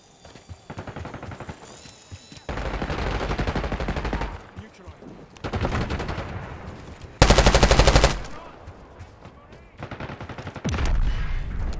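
Gunfire in Call of Duty: Black Ops 6 comes in loud automatic bursts separated by quieter stretches. One especially intense volley stands out near the end, with game voice lines and talk in between.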